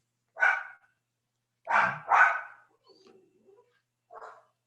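A dog barks nearby: a single sharp bark, then two quick loud barks in succession, a few faint whimpering sounds, and one softer final bark, with silence between.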